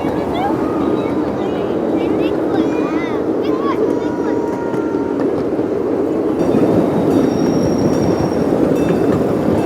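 Ride on a live steamer miniature train along rails, a steady rumbling clatter of wheels with swaying motion, people talking over it throughout.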